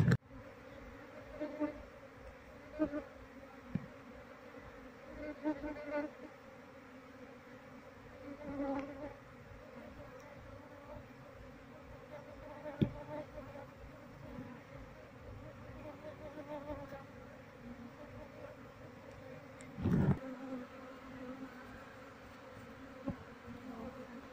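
A steady, dense hum of an Apis cerana (Asian honey bee) colony buzzing together, continuous and close, with occasional louder swells and faint background noise.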